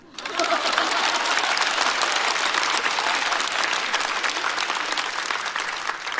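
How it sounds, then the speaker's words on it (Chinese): Loud, sustained audience applause breaks out at a stand-up comedy show, rising quickly from near silence into a thick, even roar of clapping that holds to the end. "括号鼓掌吧"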